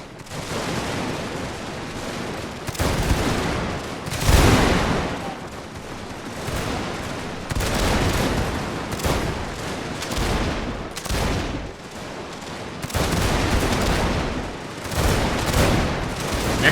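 Musket volleys crack out in a Victorian-era Mexican-American War battle in Victoria Total War, dense overlapping rifle fire in repeated loud bursts with booming swells and brief lulls between rounds.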